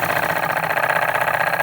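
A DR Mercer II model steam engine runs at full throttle, a dense steady mechanical churn with fast rapid pulsing, loud and close, throughout without pause.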